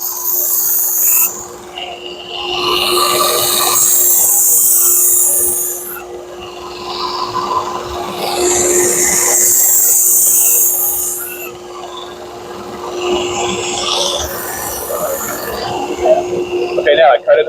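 A powered grinder cuts the primary edge of a Shun Classic chef knife. Three long, loud, hissing grinding passes rise and fade over a steady motor hum, with brief pauses between them.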